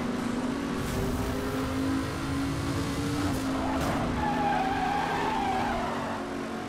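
Tires screech steadily as a car drifts in the racing game Need for Speed Hot Pursuit Remastered, a long sustained squeal over engine noise with no talk.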